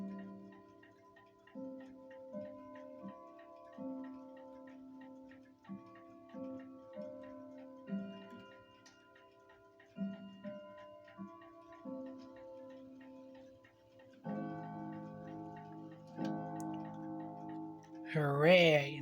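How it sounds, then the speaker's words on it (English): Cornwell grandmother clock fitted with leather hammer tips, ticking steadily while melodic chime tones ring and sustain across the whole stretch, fairly quiet and close, ending in a brief louder burst. "spur of the moment video of the Cornwell grandmother clock with the plastic hammer tips"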